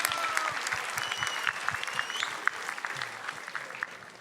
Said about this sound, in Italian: un altro applauso al ragazzo che ha alzato la mano